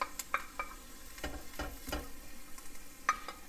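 Ground meat sizzles and crackles steadily in a pan, with scraping stirs and occasional taps of a utensil close by.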